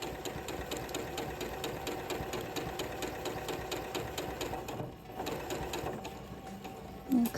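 A sewing machine stitches a dart in dress fabric, running in a fast, steady mechanical rhythm up close, pausing briefly near the end before a final stop.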